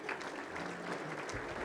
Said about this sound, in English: Can we have a nice round of applause for the staff and management at Mr. Anthony's?